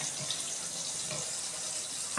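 Running water rinses vegetables for Tamil-style brinjal kulambu at a kitchen sink, a soft steady splashing stream, faint and without voices.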